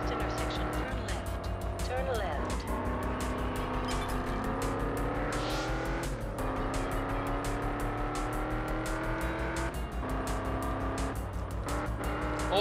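A race car in the PS2 game Test Drive Unlimited revs hard and steadily throughout a short race, its engine pitch climbing and dropping through gear changes, loud and continuous, with occasional tire noise.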